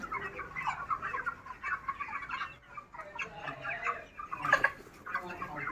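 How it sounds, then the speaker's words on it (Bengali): Native desi chickens kept for sale cluck and cackle nearby, an irregular stream of overlapping calls from several birds that rises to a louder burst near the end. "এটা দেশি মুরগি"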